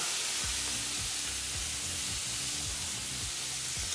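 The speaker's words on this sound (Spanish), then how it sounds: "vamos a colocarle la pasta de anchoa. Dejamos sofreír muy bien." Anchovy paste frying in a pan for spaghetti alla puttanesca, a steady close sizzle with a few soft stirring scrapes repeating underneath, no talk.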